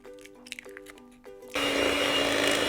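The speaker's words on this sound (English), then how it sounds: "And then you want to whiz this up till the butter and sugar are really light." Electric mixer whizzing butter and sugar in a bowl: after a second of quiet clinking, the motor kicks in abruptly with a loud steady whirring hum that continues to the end.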